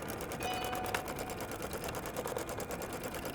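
Sewing machine with a single-eye topstitch needle, size 116, running metallic and cotton thread together in a steady, rapid stitching rhythm at moderate volume.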